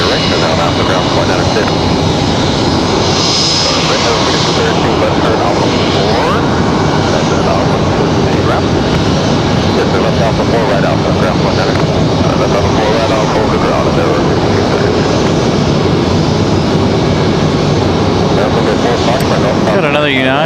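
Airliners at Raleigh-Durham International Airport make a sustained roar of jet engines, loud and fairly close, swelling and fading as aircraft taxi and move, with a person talking over the noise.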